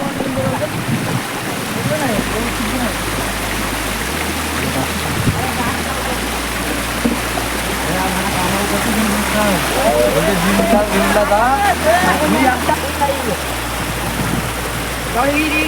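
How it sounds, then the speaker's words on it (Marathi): Continuous rushing and splashing of a small monsoon-season waterfall in the hills, steady and nearby, with voices talking faintly over it. "हा बघा छोटासा एक धबधबा आहे"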